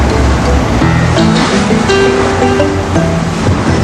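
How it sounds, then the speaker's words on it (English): Four-metre ocean waves crash across a fringing reef near Dynamite Passage in a loud, continuous roar of surf. Broad rushing water fills the scene with no voices. "With 4-metre waves crashing across the reef, Dynamite lived up to its name."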